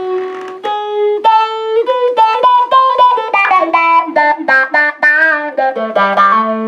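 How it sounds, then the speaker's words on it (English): Electric guitar played through an envelope filter effect on a Fender Champion 50XL amp, a run of plucked notes each with a quacky, wah-like sweep, played alone and fairly loud. "It's what I would call an envelope filter, which sounds kind of similar, except you don't have to move your foot."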